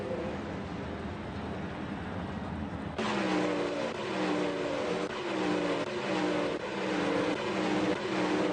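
360 winged sprint cars racing at Volusia, a loud sustained engine roar with overlapping revving tones that jumps louder as the pack crosses the line.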